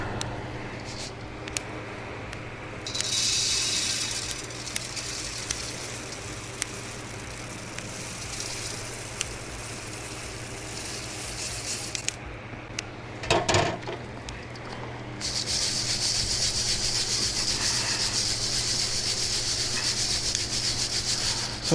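A coffee roaster running full of beans with its fan going, giving a steady rushing, rubbing noise with crackly hiss, swelling louder for stretches and with a brief clatter near the middle; no one talks.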